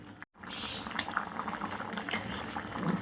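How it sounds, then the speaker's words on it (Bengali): Prawn curry gravy with potatoes bubbling at a steady boil in an uncovered pot, a continuous close, soft patter of popping bubbles after a brief silent gap at the start. "দেখো আমার ঝোলটা ভালো ফুটে গেছে"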